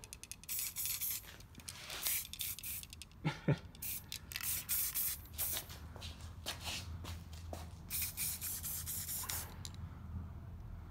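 Spray paint hisses out of an aerosol can in short, repeated bursts for a dazzle camouflage art piece, each puff a broad airy spray with brief gaps between, close and fairly loud, with a faint rubbing or shuffling texture underneath.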